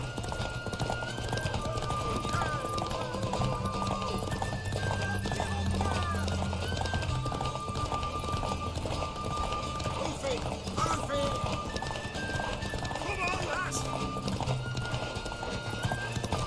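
Hooves clip-clop steadily while a horse whinnies in The Witcher 3: Wild Hunt, with tonal music and voices running underneath throughout.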